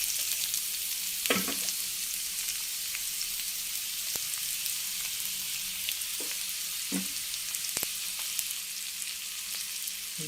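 Onions sizzle and fry steadily in a pan, a constant bright hiss with a few soft stirring clicks and scrapes scattered through, with no voices.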